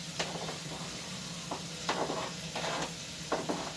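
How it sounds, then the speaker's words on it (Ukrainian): Meat sizzles in a pan with carrots and onions for plov, giving a steady frying hiss broken by several bursts of stirring and scraping. "Буду додати морку з цибули, я все разом буду кидати, нехай воно там обсмажиться чуть-чуть."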